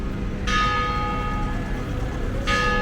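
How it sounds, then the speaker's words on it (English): Church bells ring out in two clear strikes, one early and one near the end, each leaving a bright ringing tone that hangs over a steady low outdoor rumble; no one talks. "Church bells. Love it."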